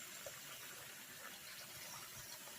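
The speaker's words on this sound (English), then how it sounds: "Now that I've let my grain sit overnight for 24 hours, I'm going to rinse it again" Soaked popcorn grain being rinsed under running water, a steady broadband gush from a tap pouring over the grain, continuous and fairly close with no speech.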